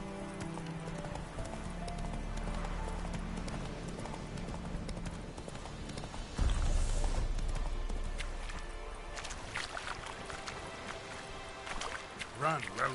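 Roach the horse gallops in The Witcher 3, hooves clip-clopping in a fast steady rhythm at moderate loudness, with game sound and a spoken voice over parts of the run.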